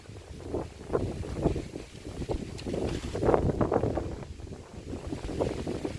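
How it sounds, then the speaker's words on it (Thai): Strong wind gusting steadily outdoors, a continuous rushing roar buffeting the microphone with louder surges throughout, no voices. "ลมก็แรงนะครับ"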